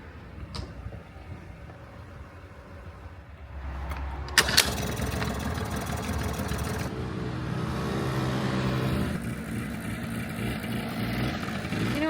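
An 80s Honda scooter engine jump-started from a JS300 booster: a quiet lead-in, a sharp click, then the small engine cranking and catching into a steady, buzzing idle that carries on close by.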